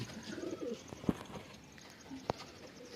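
Male pigeons of one bloodline in a home loft coo softly in low, rolling calls, with a couple of sharp knocks or wing flaps breaking through and no voices.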